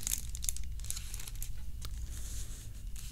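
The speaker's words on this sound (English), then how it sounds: "A nice, very thin plastic, very thin, opaque plastic bag that it's in." A thin, opaque plastic bag from an iPhone 11 Pro box crinkles steadily up close, with dense rustling and a few sharper crackles.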